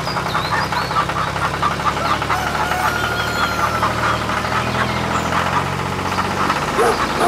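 A tractor engine runs steadily up close, a continuous low knocking rumble near idle with faint background noises over it.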